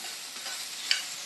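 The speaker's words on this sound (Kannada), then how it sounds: "ಇದು ಬೆಂಡೆಕಾಯಿ ಫ್ರೈ ಆಗಬೇಕು ಇನ್ನೂ ಸ್ವಲ್ಪ" Okra (ladies' finger) frying in a pan, a steady bright sizzle throughout with one short stir or clatter near the end, close and fairly quiet, with no voices.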